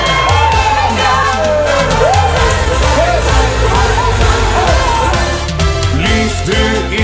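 Crowd at a live show in Zwolle cheers and whoops loudly for a singer being introduced, a dense continuous roar with shouts rising over it throughout, with music-like tonal bits mixed in.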